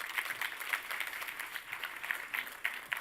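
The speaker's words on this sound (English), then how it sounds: "Give him a quick round of applause." Brief, light round of applause from a conference audience at a Microsoft Ignite tech session as a speaker walks on stage; scattered, moderately quiet clapping lasting a few seconds.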